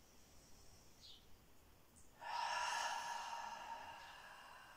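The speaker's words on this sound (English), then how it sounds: "take 5 deep breaths. Breathing in through the nose," A slow, deep breath during a relaxed yoga stretching session, soft and close. It becomes a long, breathy, airy exhale midway through, over a quiet background.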